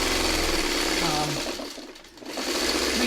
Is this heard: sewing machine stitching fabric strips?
yes